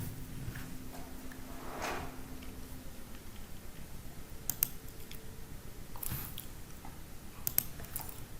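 Typing on a computer keyboard to copy and paste text, with soft scattered key presses and a few sharper clicks, quiet and close against a low steady background hum, no talking.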